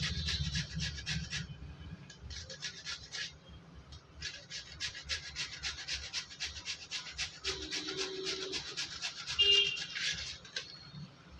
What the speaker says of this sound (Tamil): இந்த மாதிரி கேரட் துருவலில் திருவி எடுத்துடலாம்